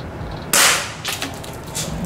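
An air gun fires a pellet into an egg, making one sharp, loud crack followed by a few fainter pops and rattles, close by with no talk.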